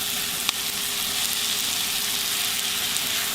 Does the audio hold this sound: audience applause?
no